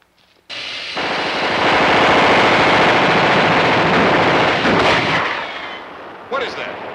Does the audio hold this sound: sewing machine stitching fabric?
no